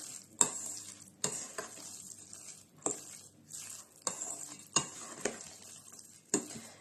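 Seasoned meatball mince mixed with pepper blend is stirred in a bowl, giving a series of distinct wet, squelchy slaps and scrapes, roughly one or two per second, close and fairly loud with no talk.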